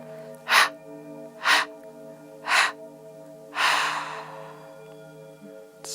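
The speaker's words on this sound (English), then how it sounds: "Through the mouth, contract and release your belly 3 to 4 times to get rid of all that breath." Four sharp, forceful exhalations pushed out through the mouth during a restorative yoga breathing exercise, the first three short and evenly spaced about a second apart, the last longer and trailing off, over a steady low background hum.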